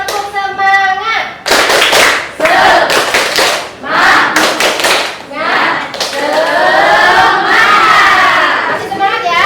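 Indonesian schoolchildren in a classroom clap in loud rhythmic bursts and shout a spirited class chant together, the teacher's voice leading at the start.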